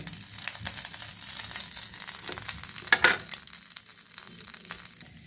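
Pieces of spicy street-style fish fry in hot oil with a steady, loud sizzle, accompanied by brief stirring and clinking near the middle.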